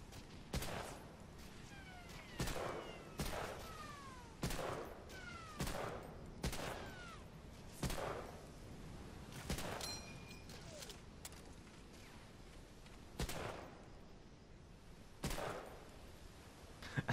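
Gunfire in Medal of Honor: Allied Assault, about a dozen sharp, loud shots fired singly at irregular intervals of roughly one to two seconds, each with a short ringing tail, over a steady background hiss.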